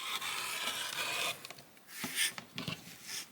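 A cutter trims the excess fabric from a quilt block: soft, close scraping and rubbing strokes, a steady rasp followed by a few short slicing passes, with no voices.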